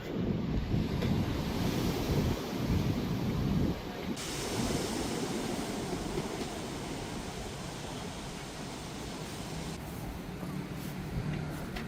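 Ocean waves wash onto a beach in Borongan City, Eastern Samar, a continuous, moderately loud surf roar buffeted by heavy wind noise on the microphone, with no talk.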